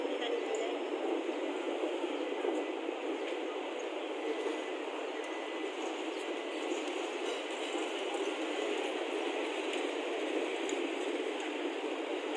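Steady, continuous rumble of a tram at a tram station in Macau at night, a constant broadband roar with faint clatter and a brief click near the end.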